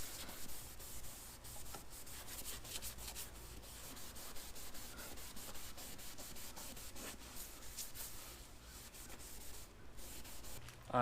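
Meguiar's restoration coat being rubbed onto a scratched, faded car headlight, a soft, steady back-and-forth rubbing and scrubbing, faint and close, continuing without talk.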